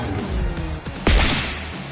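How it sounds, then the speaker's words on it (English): A Lightning Shower attack in Digimon Story Time Stranger strikes with a sharp crackling burst and swoosh about halfway through, layered over game music and effects. "Here goes lightning shower!"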